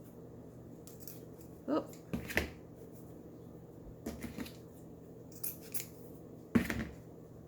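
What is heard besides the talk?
cutting a centerpiece decoration shorter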